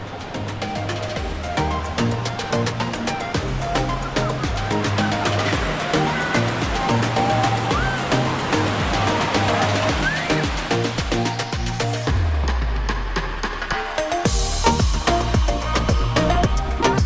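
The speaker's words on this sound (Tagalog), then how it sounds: "So kung nakikita nyo yung tubig na nalalaglag dyan is nanggagaling doon sa may swimming pool area." Water pours down steadily from a swimming pool area at Dalitiwan resort, a continuous broad rushing wash heard under a loud music track that runs the whole time.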